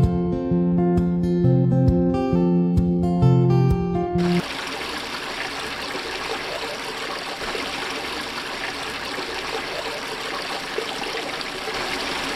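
Water pours steadily into a fishpond, a constant broadband rush and trickle that follows a few seconds of music at the start.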